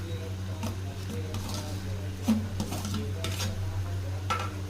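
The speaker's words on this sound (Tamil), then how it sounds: "சேர்த்துட்டு ஒரு தடவை நல்லா கலந்து விட்டுக்கலாம்." Potatoes being stirred into a boiling pot while making a lunch box at home, soft scraping and clinking of a spoon against the pot over a steady bubbling hum, close and continuous.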